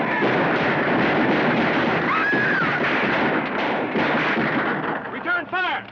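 Gunfire in a classic film noir shootout, heavy continuous booming shots and blasts filling the scene, with a few sharp ricochet-like whines near the end and no clear speech.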